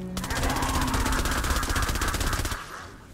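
Rapid, sustained machine-gun fire from the Candy Corn LMG in Fortnite Save the World, a dense loud burst of evenly spaced shots lasting over two seconds before cutting off, with no talking.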